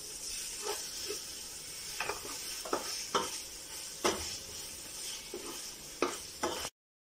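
Ginger garlic paste sauteing in a pan for mutton dum biryani, a soft sizzle under repeated spatula scrapes and stirring knocks at an uneven rhythm, fairly quiet and close.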